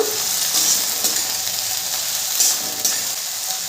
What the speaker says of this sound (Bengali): অল্প একটু ফুলকপি নিয়েছি, সেটা ছোটো ছোটো করে টুকরো করে নিয়েছি। ভালো করে ভেজে নেব।